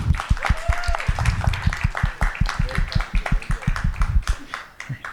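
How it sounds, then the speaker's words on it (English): An audience at a school district governing board meeting applauds with steady, rapid clapping throughout, fairly close and loud, with a voice briefly audible in the mix. "One more round of applause for Inez and Sienna."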